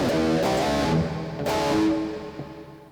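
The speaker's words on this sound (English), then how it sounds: "Just add a little bit of reverb." Sustained distorted electric guitar chords through an all-in-one guitar pedal ring out with a washy reverb tail, a couple of strummed hits blending into a lingering wash.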